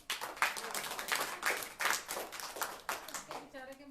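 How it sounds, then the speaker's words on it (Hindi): Children clap for themselves at a school gathering, a loose burst of bright, irregular hand claps rising and falling in bunches, with a voice starting to speak near the end. "इसलिए एक बार अपने लिए जोर से ताली बजाओ।"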